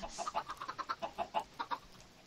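Rapid, rhythmic clucking of egg-laying chickens in Minecraft, a dozen or so short notes in quick succession, fairly faint and clean with no talk.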